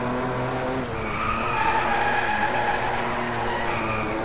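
Continuous engine roar with screeching tires as a car slides through a drift in the racing video game Driveclub, loud and steady throughout.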